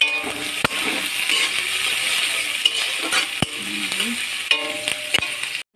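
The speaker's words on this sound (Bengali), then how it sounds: "এই যে একটু পেঁয়াজটা দিয়ে দিলাম। আর একটু তেল দিয়ে দিলাম।" Onion frying in oil for momo filling, a loud, close sizzle broken by sharp metallic clicks and scrapes of a spoon against the pan at irregular intervals, without speech.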